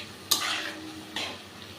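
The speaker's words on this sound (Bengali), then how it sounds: "খুব আস্তে আস্তে এটাকে মশলাটাকে নাড়বেন যেন ফেটে না যায়" Beaten yogurt being slowly stirred into frying masala for methi chicken, two soft scraping strokes of a spoon through the pan over a low steady sizzle, close and alone.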